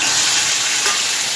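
Steady loud sizzling of pork sticks frying in a hot pan, a dense crackling hiss with a brief stir partway through.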